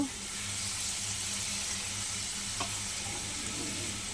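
Drumsticks and yardlong beans frying in oil for a mixed vegetable curry, a steady hissing sizzle with a faint low hum underneath and one brief clink partway through.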